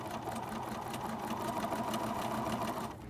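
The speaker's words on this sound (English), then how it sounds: "That groove in the pin tuck foot is going to hold my cording as I stitch." A sewing machine fitted with a pin tuck foot runs continuously, stitching cording into piping, a steady close mechanical whir and rapid needle chatter for about three seconds before easing off.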